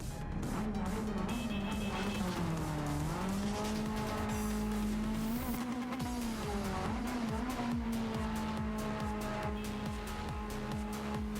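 An all-wheel-drive race car in Gran Turismo 7 revs loudly through gear changes, its engine note rising and falling continuously, with tire squeal mixed in and no talk.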